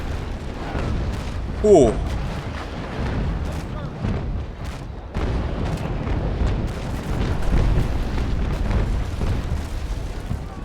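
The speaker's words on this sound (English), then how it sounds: "First volley on us." A rumbling barrage of heavy cannon impacts from an enemy ship's volley in the naval sailing game Naval Action builds into a continuous booming roar, with a man's brief exclamation early on.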